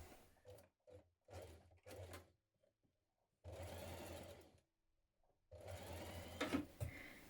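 A sewing machine stitches a 1 cm seam on a blouse, running in several short bursts and then longer steady runs, with pauses between them. The sound is close and clear, with no talking.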